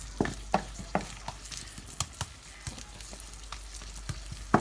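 Homemade Chinese sausage frying until crisp and golden in a pan: a steady oily sizzle broken by repeated sharp spatula scrapes and clatters at an uneven rhythm, close and fairly loud.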